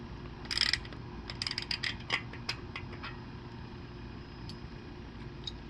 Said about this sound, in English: tightening nuts and bolts and shit